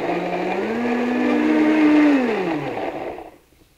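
A blender whirs steadily as it purees frozen bananas into ice cream, its motor pitch climbing, holding, then dropping as it winds down and stops, with no voices.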